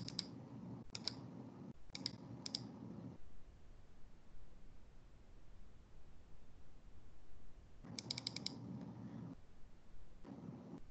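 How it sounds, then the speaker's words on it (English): Computer keyboard and mouse clicks while selecting text, a few short clusters of sharp clicks at the start and again later, separated by a stretch of faint hiss, with no speech. "I just basically click Control and A for selecting all the text that's in this box, and then just click remove formatting"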